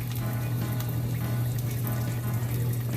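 Water and broth pour into a full pot of collard greens, a continuous splashing rush of liquid over a low, steady hum, without any voices.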